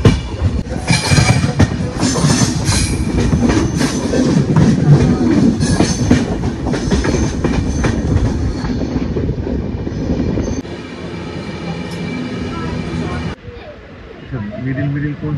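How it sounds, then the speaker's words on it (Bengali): Shantiniketan Express rolling out of Guskara station, loud rhythmic clatter of wheels and carriage rumble close by that drops off sharply partway through, leaving quieter interior noise and some talk. "ছেড়ে বেরিয়ে গেল ট্রেন।"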